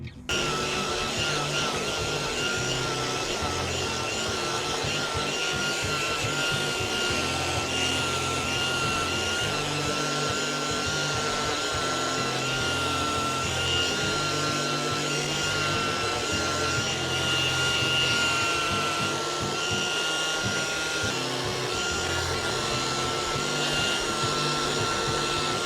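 Power sanding of a rustic scrap wood pumpkin: a loud steady motorized hum with gritty rasping that runs continuously and close throughout.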